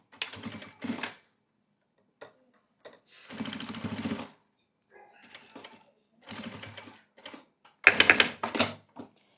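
A sewing machine stitches bias binding onto a half-moon organizer pouch in short, loud bursts of rapid mechanical clatter separated by brief pauses, with no talking.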